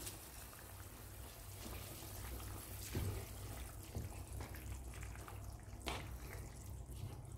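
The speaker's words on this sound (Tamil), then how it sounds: "இப்போ அரிசியை வடிகட்டிட்டு சேர்த்துக்கலாம்." Water pours and splashes as soaked rice is drained and added to a pot for Middle Eastern chicken rice pilaf, a steady running trickle with a few louder splashes and drips.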